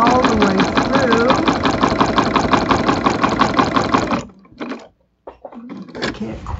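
A sewing machine quilts through layers with a walking foot, its needle clattering in a fast, steady, close rhythm for several seconds before stopping, followed by quieter handling sounds and brief pauses.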